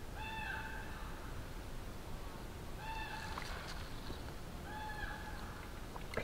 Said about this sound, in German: Ist das ein Rabe oder eine Krähe?